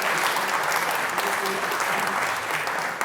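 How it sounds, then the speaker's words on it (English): Sustained, dense applause from a crowd at a community awards ceremony honouring nominees, loud and continuous for the whole stretch. "So another round of applause for CURBOROUGH Community Centre and Lichfield Recycle."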